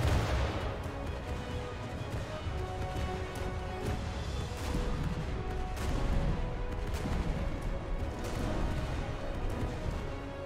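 Heavy artillery fire and an ammunition explosion in the naval battle game From the Depths, with a dense, continuous rumble of booms and cracking blasts that fill the scene without pause.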